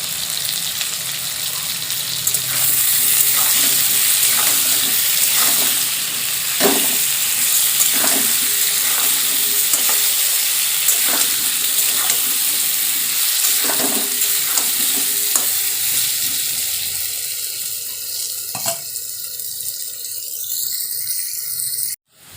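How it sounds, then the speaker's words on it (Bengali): Potatoes fry with turmeric and salt in a pan, giving a continuous bright sizzle broken by regular scrapes and taps as they are stirred. The frying thins out toward the end and then cuts off abruptly. "আলু দেখুন লাল লাল করে ভাজা হয়ে গেছে।"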